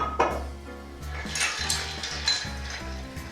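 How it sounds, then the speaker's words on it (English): Ice clinks and rattles against glass as an Old Fashioned made with Wild Turkey is stirred, a continuous close jangle of spoon and cubes with small sharper knocks. "Give it another good stir."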